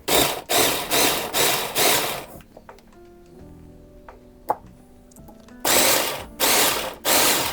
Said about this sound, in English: Because this is a little processor and it's not super powerful, I'm just going to put a little bit, blend it